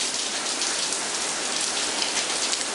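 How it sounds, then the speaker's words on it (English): Heavy rain pours onto a street, a loud, continuous hiss of dense drops hitting the pavement with no letup. "Some insane rain."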